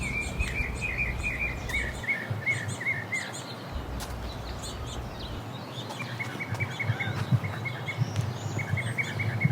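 Many birds sing in a desert garden, such as cactus wrens, Gila woodpeckers, quails, mockingbirds and cardinals, with repeated overlapping chirps and trills at moderate distance over a steady insect hum.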